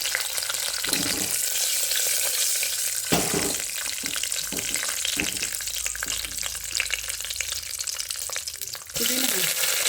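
Golden lentils fry in hot oil in a pan while mint rice is made, giving a close, steady sizzle and crackle throughout, with a few stirring scrapes and a brief clatter near the end.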